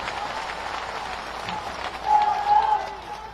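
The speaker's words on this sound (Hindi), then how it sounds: "एक बार सिंधिया जी का जोरदार तालियां बजा के स्वागत कर रहे हैं" Crowd at a political election rally in Mungaoli, Ashoknagar district, applauding with sustained clapping that swells louder toward the end, with a faint tone over it.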